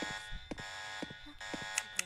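Electronic alarm buzzing during a Roblox game, a bright steady tone running throughout with short beeping peaks near the end, talking faintly over it.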